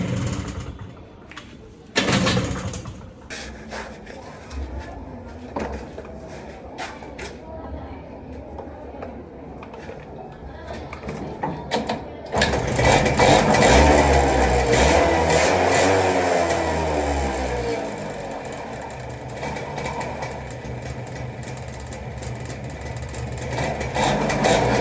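A 20-year-old TVS XL heavy-duty moped starts up and idles steadily after its carburetor was cleaned, the small engine loud and close with a continuous buzzing drone after a few clunks and a voice early on.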